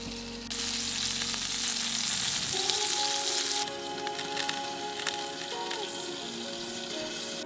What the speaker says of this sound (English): making some burgers